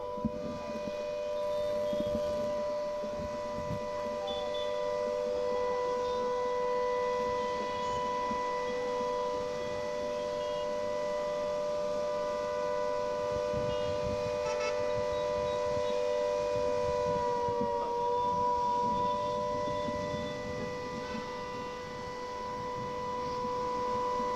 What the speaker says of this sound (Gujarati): બ્લેકઆઉટનો સમય અત્યારે થઈ ચૂક્યો છે અને સાયરન છે તે વગાડવામાં આવી રહ્યા છે